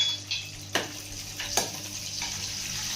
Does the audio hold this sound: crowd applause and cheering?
no